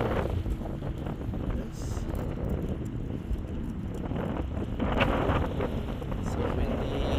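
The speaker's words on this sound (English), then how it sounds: "So windy." Strong wind batters the microphone outdoors at a state capitol in Des Moines, Iowa, producing a loud continuous low roar and buffeting, with a voice faintly underneath.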